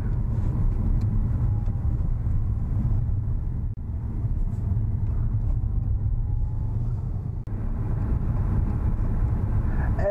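A Fiat 500e electric car pulls away and gathers speed, heard from inside as a steady low rumble of road and cabin noise, with no engine note and no voices.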